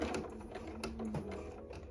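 A sewing machine stitches a diagonal line across fabric with a soft, fast, even mechanical rattle of needle strokes, quiet and close, running steadily without any talk.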